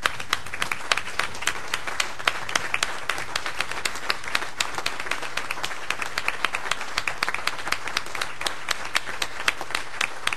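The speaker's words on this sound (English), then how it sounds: "I want to ask my fellow board members to join me in a round of applause and stand up for Sue." Board members at a board of directors meeting give a sustained round of applause, many hands clapping in a steady, fairly close patter that continues evenly throughout.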